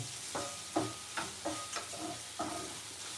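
Dried jawla shrimp roasting in a pan, giving a soft steady sizzle broken by several light scraping stir strokes, close and fairly quiet, with no one talking.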